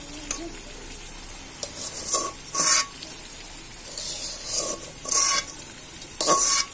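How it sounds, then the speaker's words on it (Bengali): Fried tengra fish is stirred into sizzling bhuna spice masala in a pan, with a steady low sizzle broken by several louder scraping bursts of the spoon against the pan. "মাছগুলো দিয়ে একটা নাড়া দিয়ে দিব ভালো করে, যাতে মশলাগুলো মাছের ভেতরে ঢোকে।"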